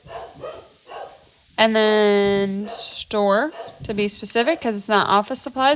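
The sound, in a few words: dogs barking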